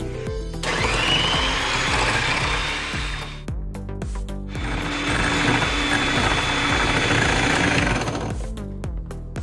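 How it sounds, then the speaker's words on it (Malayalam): An electric beater runs at high speed whisking two eggs, giving a loud continuous mechanical whir with a rattling edge. It cuts out briefly midway and then starts up again. "ആദ്യം ഞാൻ 2 മുട്ടയുണ്ട് ഇത് നന്നായിട്ടൊന്ന് ബീറ്റ് ചെയ്യാണ് ഹൈ സ്പീഡിൽ തന്നെ"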